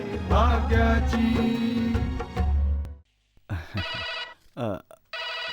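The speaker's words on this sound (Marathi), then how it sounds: "अरे फोन घे जरा" A telephone rings in a home in a Marathi TV serial, with a musical tonal ringtone heard loud and close, first over a music bed, then in repeated bursts broken by short gaps.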